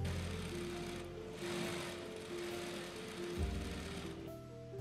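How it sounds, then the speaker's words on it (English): A sewing machine stitches a folded ribbon-like fabric strip for a Hanfu dress, running in a steady continuous whir with a slight pause and restart partway through, close and alone. "sew straight down, leaving both ends open"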